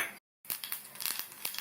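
Mustard seeds splutter in hot oil: rapid crackling and popping, small bursts scattered unevenly, close and fairly quiet, with a brief gap of silence near the start.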